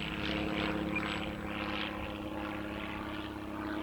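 An FMS Flash radio-controlled airplane flies overhead with a steady whining buzz from its electric propeller. The pitch wavers gently as it passes at moderate distance, continuous and with no talking.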